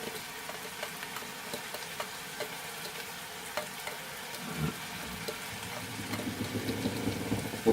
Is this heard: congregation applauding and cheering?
no